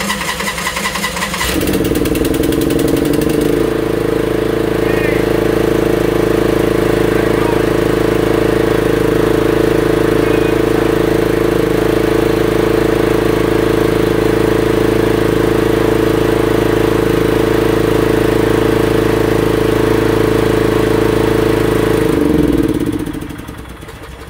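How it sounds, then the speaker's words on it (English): A Craftsman T1200 riding lawnmower engine starts after a carburetor replacement and runs loud and steady with a constant droning hum for about twenty seconds before shutting off. "We replaced the carburetor and she fired right up."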